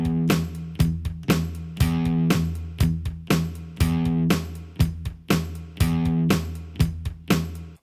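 An acoustic guitar repeats a strumming pattern: one open, ringing strum followed by three short palm-muted chugs, cycling steadily in an even rhythm at moderate volume.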